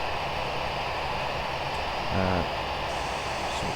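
EasyJet Airbus A320 jet engines in FSX hold a constant loud, broadband whine and roar, with a brief low tonal rumble swelling near the middle and no talking.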